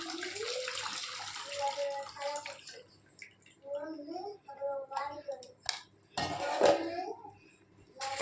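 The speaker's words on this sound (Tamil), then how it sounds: "ஸோ வந்து அந்த கரைச்சி வச்ச புளியை ஊற்றிடலாம்." Dissolved tamarind water poured into a pot of rasam, a gurgling liquid splash heard in bursts with a person talking over it.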